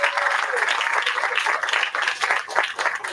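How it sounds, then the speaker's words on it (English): An outdoor crowd at a senior living community center groundbreaking applauds the mayor and a council member, with continuous moderate clapping from many people and a faint tone briefly audible early on. "Give them another round of applause."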